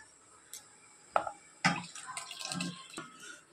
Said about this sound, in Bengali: আমার জলটা ফুটে গেছে, আর আমি চালটা 1 ঘন্টা ভিজিয়ে রেখেছিলাম, তো এই চালগুলোই দিয়ে দিচ্ছি।